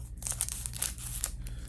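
A foil basketball trading card pack being torn open by hand in short, uneven rips and rustles, close by and fairly quiet.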